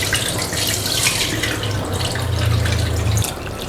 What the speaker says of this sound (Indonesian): Kita akan mengulang mencuci ketan ini sebanyak 3 kali atau hingga bersih.